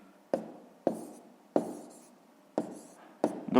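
A pen writes numbers on paper while someone works through a 5th-grade math exercise, producing five separate short scratching strokes with quiet pauses between them, close and soft.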